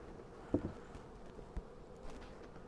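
Honey bees near an opened beehive super during a honey harvest with a bee escape board, a low, steady droning hum with a few brief louder bumps, fairly close and otherwise alone.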